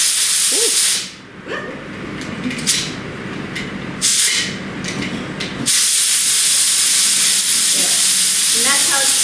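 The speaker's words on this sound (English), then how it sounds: "So I'm going to let the steam off of it by pulling it up." A pressure canner used for canning fish vents steam in loud, sustained hissing bursts that start and stop several times, with brief quieter gaps between releases.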